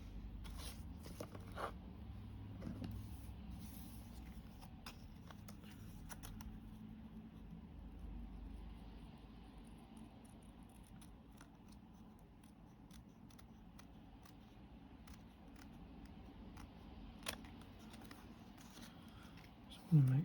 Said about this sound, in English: So we can tidy that up with scissors.